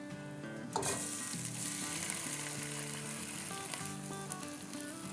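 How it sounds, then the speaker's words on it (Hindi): Soaked, drained rice hits hot oil in a pot for chicken biryani, setting off a loud, continuous crackling sizzle with occasional stirring scrapes, no voices over it. "तो देखिए ये सिजल हो रहा है।"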